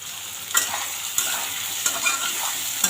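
Soya chunks fry in plenty of hot oil in a wok, with a loud, steady sizzle broken by several sharp scrapes of a spatula stirring them, and no voices.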